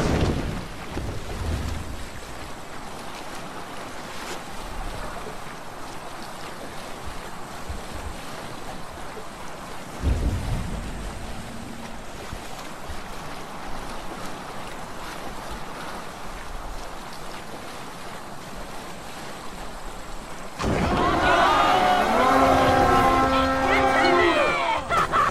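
Sailing ship at sea in Assassin's Creed Valhalla, with a steady wash of waves and wind noise rushing throughout and louder surf near the end, while a voice talks over it.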